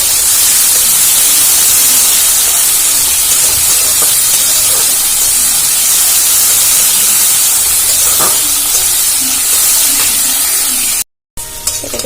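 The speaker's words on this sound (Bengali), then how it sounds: "এবারে ভালো করে নাড়াচাড়া করে ভেজে নেবো" Steady, loud sizzling hiss of chopped chillies frying fills the whole stretch, with faint scraping of stirring, then a brief drop to silence near the end.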